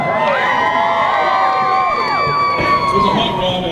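Spectators cheer in the grandstands at Lonesome Pine Raceway, a loud sustained roar of voices with whoops and shouts rising over one another throughout.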